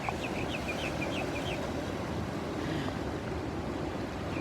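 Common mynas sing by coastal cliffs between two Sydney ocean pools: a quick run of bright chirps early on, fairly faint, over constant loud surf and wind.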